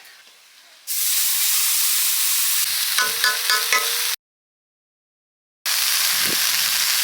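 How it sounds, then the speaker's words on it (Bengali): A loud, steady sizzle of onion, ginger and garlic paste hitting hot oil left from frying fish, with some stirring clatter, a brief silent gap, then the frying hiss resumes. "পেঁয়াজ আদা রসুন বাটা দিয়ে দিচ্ছি মাছ ভাজার তেলে"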